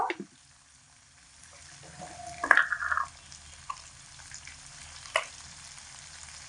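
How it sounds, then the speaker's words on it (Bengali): Eggs fry in a pan over medium heat, a soft low sizzle with a couple of sharp utensil clinks against the pan partway through, fairly quiet overall. "ডিমগুলোকে মিডিয়াম আঁচে রেখে তিন থেকে চার মিনিট সময় মতো খুব ভালো করে একটু ভেজে নিয়েছি"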